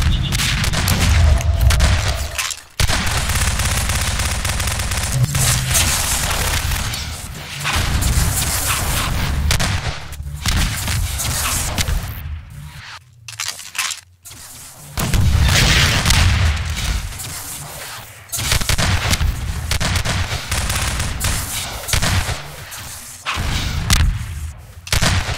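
Rocket explosions from RPG fire mixed with bursts of gunfire in Half-Life 2 Deathmatch, loud booming blasts and rapid shots stacking up almost without pause, dense and close throughout.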